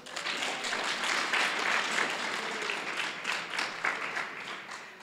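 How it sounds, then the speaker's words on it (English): An audience in a hall gives sustained applause for a student at an academic hall of fame ceremony, a dense, even wash of many hands clapping that tapers slightly at the end. "If she can receive a round of applause."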